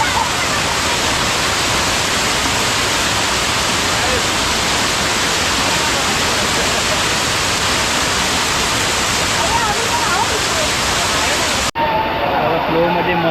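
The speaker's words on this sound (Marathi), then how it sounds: "काही जबरदस्त वॉटरफॉलचा फ्लो आहे." Heavy monsoon waterfall at Usgao Dam pouring in a steady, loud, broadband roar that fills the whole stretch, briefly cutting off near the end.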